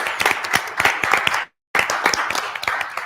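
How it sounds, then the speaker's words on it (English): An audience at a workshop event claps for the volunteers, with dense, lively applause close by that cuts out for a moment and then resumes at full strength. "you're going to give an even bigger applause to this one"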